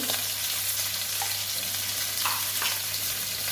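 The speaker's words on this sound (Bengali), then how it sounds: "মাছের মাথা ভাজা হয়ে গেছে এখানে আমি একটু আর অল্প তেল দেবো" Hot oil sizzles steadily in a pan where fish heads have been fried, a loud, continuous frying crackle with faint stirring scrapes and no voices.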